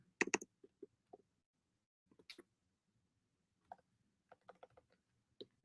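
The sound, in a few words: typing on a computer keyboard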